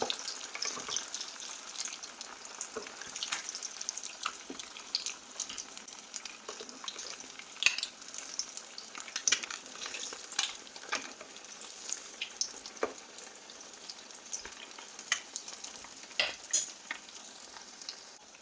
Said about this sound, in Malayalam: ഇനി നമുക്ക് എണ്ണയിലിട്ട് വറുത്തെടുക്കണം